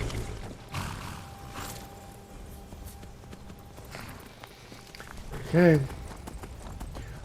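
A horse clip-clops in Skyrim, soft repeated hoofbeats under someone talking, followed by a brief loud whinny near the end.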